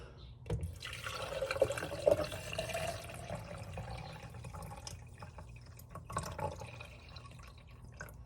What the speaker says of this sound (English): Now we're gonna add a little bit of water.